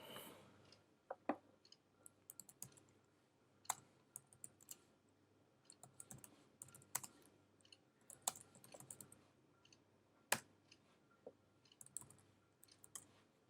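Someone types a command on a computer keyboard, giving irregular, quiet, close key clicks with occasional sharper taps and short pauses throughout.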